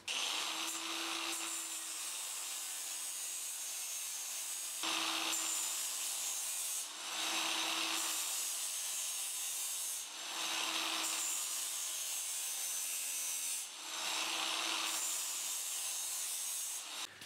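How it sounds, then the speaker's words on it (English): Rough grinding bursts in four or five long passes with brief pauses between, each a loud, harsh, steady abrasive rasp close by, as a cordless angle grinder with a flat disc rounds off acrylic corners. "I'm going to take a cordless angle grinder with a flat disc"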